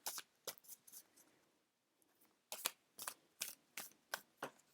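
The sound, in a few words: shuffling oracle cards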